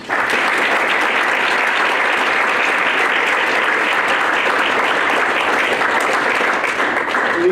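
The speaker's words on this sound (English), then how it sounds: "Let's give all the members of the 2021 Hall of Fame class another round of applause." Sustained audience applause at a 2021 athletics Hall of Fame ceremony, a dense, steady wash of clapping from a large crowd that holds at an even, loud level throughout.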